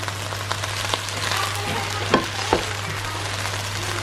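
Fried noodles (mie goreng) sizzle steadily in a pan as a home-cooked dinner, a continuous frying hiss with a couple of brief clinks or stirs midway, close and moderately loud, with no talking.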